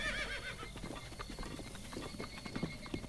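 A horse in The Legend of Zelda: Breath of the Wild whinnies and clip-clops, with a sharp neigh at the start followed by soft, close hoofbeats over game ambience.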